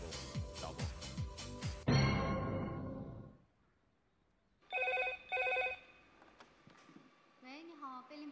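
An office telephone at a police 110 command center in Xi'an rings in repeated bursts, with other electronic phone tones and chimes following through a quiet room.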